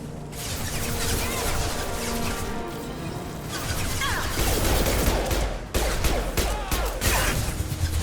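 Enemy gunfire in Mass Effect 2 rattles in dense, loud volleys of overlapping shots and impacts, continuing without pause across the whole stretch with almost no speech.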